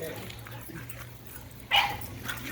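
A German Shepherd plays with another dog, giving a sudden loud bark near the end among softer growls and yips, while a person talks over the scuffling.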